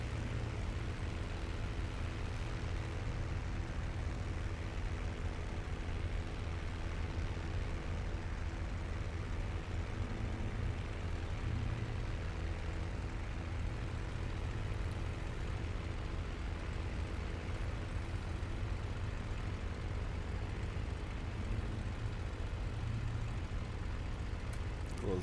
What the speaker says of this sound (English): Alright, taxiing off.